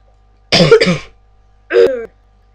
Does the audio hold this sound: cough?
yes